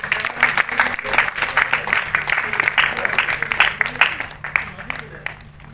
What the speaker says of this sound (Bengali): সবাই একটু জোরে হাততালি দেবেন।